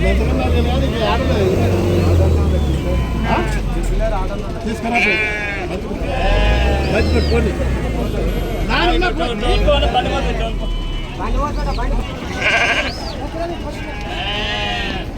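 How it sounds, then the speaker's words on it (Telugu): Sheep bleat repeatedly amid a busy crowd at the Pebbair livestock market, with people talking loudly nearby and steady background bustle throughout. "మంచి మంచి గొర్రెలు అయితే రావడం జరిగింది"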